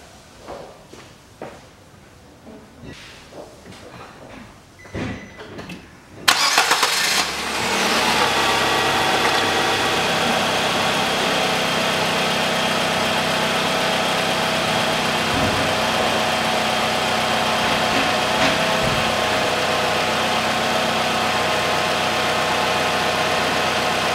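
A 2008 Nissan Qashqai 2.0 4WD with a CVT, just refilled with fresh transmission oil, cranks and catches after a few seconds of quiet rustling, then settles into a loud, steady idle close by.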